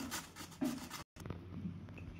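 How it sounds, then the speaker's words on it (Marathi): Leftover chapati rubbed against a small hand grater, giving a steady close rasping scrape with a brief pause partway through. "छान किसून घ्यायचं किसणीच्या साहाय्याने"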